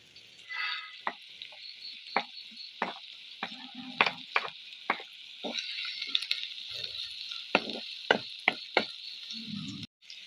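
Grated coconut roasts in a pan with onions for a jackfruit seed masala curry, giving a low, quiet frying hiss punctuated by a regular series of sharp spatula knocks and scrapes against the pan.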